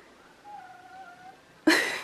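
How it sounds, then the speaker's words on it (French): A pet cat gives a short, thin, close meow in a quiet room at home. A sudden louder noise cuts in at the end. "Mon petit chat."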